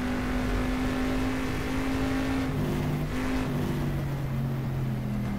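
A Corvette C3 racing engine in GTR2 at 1970s Sebring holds a loud, steady drone throughout, with its pitch shifting midway as the car runs back toward the pits.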